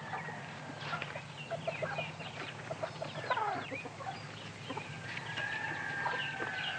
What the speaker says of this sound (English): You want this chicken, Frank?